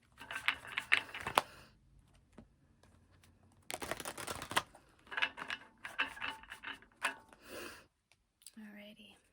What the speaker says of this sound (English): Let's do a little bit more shuffling.